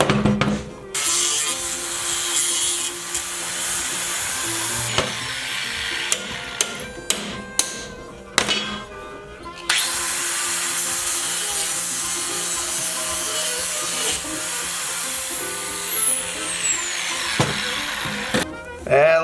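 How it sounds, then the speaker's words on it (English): A small, worn cutoff wheel grinds through metal stock while a sissy bar is fabricated, giving a loud sustained shriek that stops and restarts several times with short clanks between cuts. "That cutoff wheel is tiny now."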